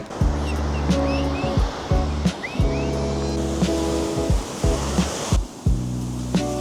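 Waves wash onto a beach in the Netherlands, a steady roar of surf with repeated low rumbling pulses, fairly loud and close, with faint voices now and then.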